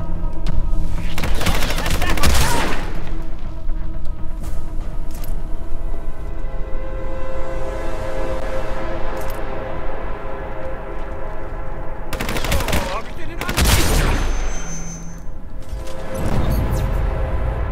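Pump shotgun fire in Hitman: Absolution, a few loud, booming blasts spaced several seconds apart, each with a long ringing tail over a steady background score.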